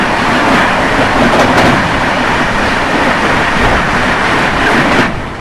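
The Dibrugarh Rajdhani Express passes close by, a loud, steady rush of wheels and carriages with rhythmic rail clatter that continues almost the whole time and eases off at the very end.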